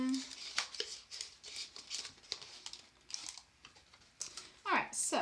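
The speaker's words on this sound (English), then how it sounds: "But we're going to see how we can do with some Scotch tape here." Scotch tape pulled off the roll and pressed onto a paper craft, heard as quick crinkling tears and sticky rips in irregular bursts, fairly close and moderately quiet.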